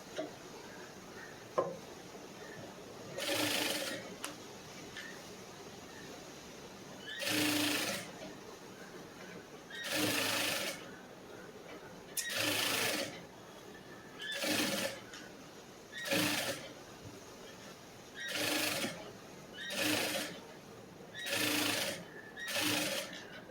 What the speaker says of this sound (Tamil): இதுக்கு மேலே ஒரு தையல் போட்டுடலாம்